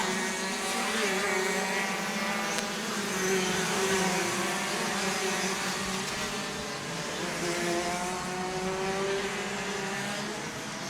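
DD2 shifter karts howl past during a championship heat, a steady layered engine drone with rising and falling pitch sweeps as several karts pass at mid distance, continuous throughout.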